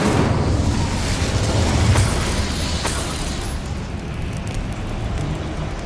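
An incendiary fire spell in Hogwarts Legacy goes off as a loud, sustained whooshing roar with a low rumbling boom, with a few crackling bursts scattered through it.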